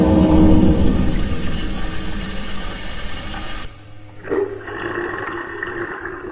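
Water rushes loudly in a video game puzzle room, a dense gushing roar that cuts off abruptly partway through, leaving a quieter low hum and faint tones.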